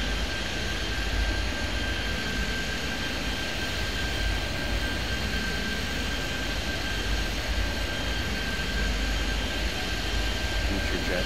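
Jet airliners take off from runway 27 in the Airport Madness 3D video game, a steady, loud engine roar with a constant high whine throughout.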